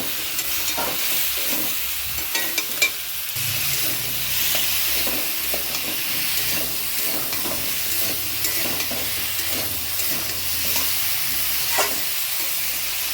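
Food frying in a pan with no spices added: a continuous bright sizzle with frequent scraping and stirring knocks throughout, no voices.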